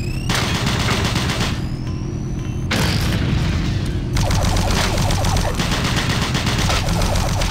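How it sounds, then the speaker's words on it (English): Shotgun blasts and rapid machine gun bursts from DOOM 3 BFG Edition, loud and dense, with booming shots layered over sustained chattering fire and mechanical clatter throughout. "Shotgun, machine gun."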